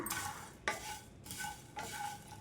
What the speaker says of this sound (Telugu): ఈ విధంగా అయితే కలుపుకుంటూ సిమ్లో ఉంచేసుకొని వేడి చేసుకోవాలి